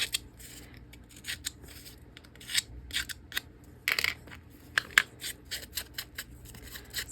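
Small scissors snip through paper in a quick, irregular run of faint, crisp cuts close by, with quiet rustling between them and no talking.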